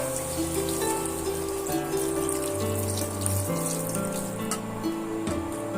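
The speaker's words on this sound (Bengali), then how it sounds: "এবার আমি এখানে পরিমাণ মতন পানি অ্যাড করে দেবো" Water poured into a cooking pan over browned soya chunks for a curry, a steady continuous running pour with no talk, set against a dense tonal kitchen background.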